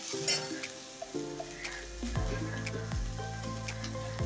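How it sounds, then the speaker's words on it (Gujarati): Grated carrots drop into hot ghee in a kadai and sizzle steadily, with occasional metallic clinks of a utensil against the pan. "ગાજરને કઢાઈમાં નાખી દેવું"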